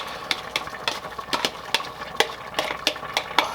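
A spoon works sauteed onions into broccoli cheese soup in a pot with about a dozen sharp scraping knocks in a quick, uneven rhythm. The clacks sound close and stand out over a faint background sizzle.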